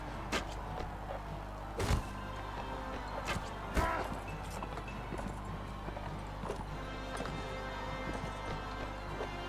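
Horse hooves from the Mount & Blade Warband video game with the Saltanatı Selçuklu mod, a steady clip-clop of galloping steps amid combat noise and a few sharp impacts, with someone talking over the game.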